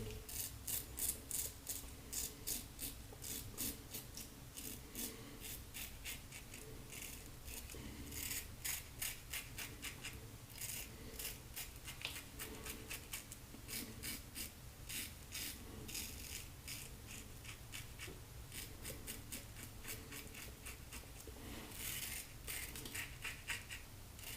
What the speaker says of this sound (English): as aggressive as this razor is, it is still struggling a little bit with the hair right around my chin